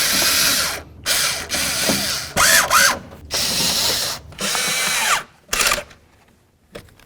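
Bolts are driven into the door panel of a 1988-2002 GMC Sierra 1500 with a power driver, in several loud whirring bursts separated by short pauses, each ending with a ratcheting rattle.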